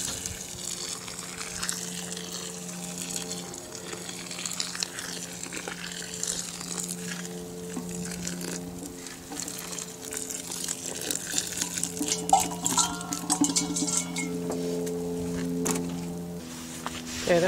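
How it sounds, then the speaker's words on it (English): Boiling water pours steadily into soil in a continuous splashing, gurgling stream, close by, with faint clinks and rustles near the end. "I'm going to pour some boiling water in it"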